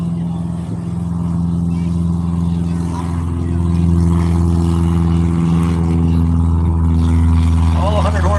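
Cessna 150 light airplane engine droning steadily during takeoff, a loud continuous propeller hum with a strong low tone that swells slightly, heard from nearby throughout.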